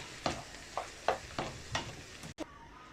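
Crème fraîche sauce for chicken and rice simmers over low heat in a pan, a soft steady bubbling with a few scraping stirs of a utensil, close and fairly quiet with no talk.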